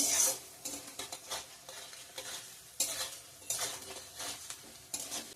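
Vegetables such as cauliflower, potato and cabbage frying for khichuri, with a spoon scraping and clanking against the pan in repeated stirring strokes over a soft, steady sizzle.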